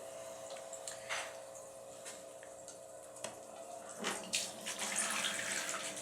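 Water and debris are siphoned from a tank of baby angelfish fry, giving a steady trickling, gurgling flow with scattered splashes and clicks, close by with no talk.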